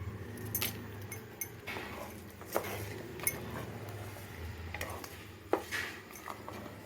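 Pea and potato kurma stirred in a metal pot, giving a string of scattered clinks and scrapes of a spoon against the pot, close and fairly quiet, with no talk.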